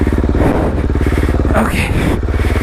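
A running motorcycle engine throbs loud and close with a steady pulsing idle-to-mid rumble throughout, wind and rider noise mixed in.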